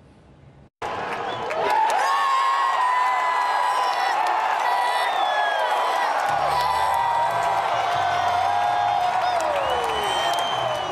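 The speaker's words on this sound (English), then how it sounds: "With a crowd inside Dodger Stadium, let out a roar" A large crowd inside Dodger Stadium lets out a sustained roar of cheering and whooping after a brief quiet lead-in, staying loud and steady throughout with scattered claps and shouts.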